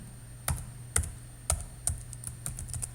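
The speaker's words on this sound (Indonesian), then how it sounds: "Silahkan diketik NPM-nya." A student ID being typed on a computer keyboard in a quiet room, a steady series of separate, close key clicks spaced evenly, with no talking.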